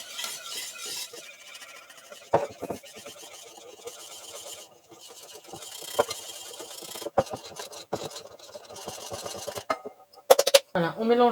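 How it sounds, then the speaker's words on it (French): A utensil stirs and scrapes through cake batter in a bowl as a flour and baking powder mixture is worked in for a pear cake, giving soft uneven swishes punctuated by sharp clinks and scrapes against the bowl. "on mélange bien le tout jusqu'à ce qu'on n'ait plus de grumeaux"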